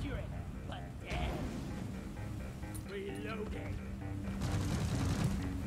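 Sniper turrets in Deep Rock Galactic fire repeated sharp shots amid ongoing combat noise and bursts of battle, with voices talking over the action.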